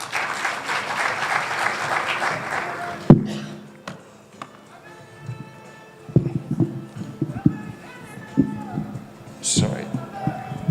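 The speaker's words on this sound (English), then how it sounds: "A round of applause for the panel." Audience applause for a conference panel at an investment conference, dense clapping for about three seconds, then fading into scattered handling noises and a speaker's voice.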